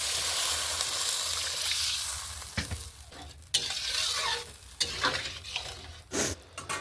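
Spiced masala sizzles and hisses loudly in a pan as water is poured in, with stirring scrapes and bursts of spitting steam, close and continuous without talk.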